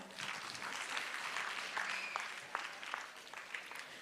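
A seminar audience at a parenting development session claps steadily, a broad wash of many hands that is moderately loud and even, with a few sharper individual claps standing out near the end.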